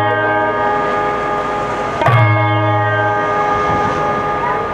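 A temple bell is struck once with a sharp metallic clang, its bright ringing tone lingering and slowly fading, set over a sustained harmonic drone.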